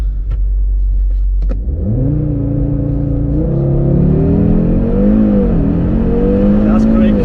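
A 2020 Audi RS3 launches from a standstill on a level road, idling before the engine surges and climbs through rising revs with shifts, loud and close from inside the car.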